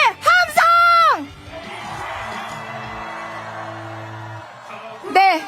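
Crowd at an outdoor election campaign rally in Seoul, the day before the vote, raising a sustained roar of cheers and shouts for about four seconds, framed at the start and end by an amplified host's voice over a loudspeaker.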